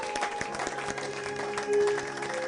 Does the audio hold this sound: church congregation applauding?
yes